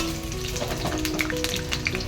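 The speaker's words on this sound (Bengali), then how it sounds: "তো ফার্স্টে আলু আর পেঁয়াজগুলো ভেজে নেব" Potatoes and onions fry in hot oil with a steady crackling sizzle and scattered bright pops, along with a faint hum in the kitchen.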